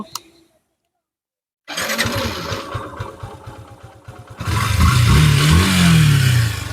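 New budget motorcycle engine being started after a short silence, settling into a steady pulsing idle before revving up loudly and holding a strong, close throttle roar.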